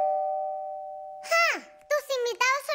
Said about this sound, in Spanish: El timbre está sonando.